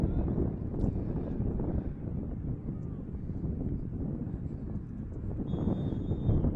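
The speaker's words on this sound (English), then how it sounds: "I can't hear his whistle. It's so windy." Heavy wind, about 35 miles per hour, buffets the microphone in a constant low roar at an outdoor girls' soccer match, with no voices, only a faint high whistle near the end.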